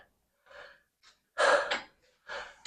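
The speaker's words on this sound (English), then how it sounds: "I heavy breathe so much." Several heavy breaths close to the mic, a couple of soft exhales followed by a sharp, loud gasping intake and another breathy exhale.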